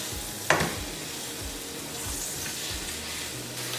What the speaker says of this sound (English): Check on my pork chops. We'll go ahead and flip them.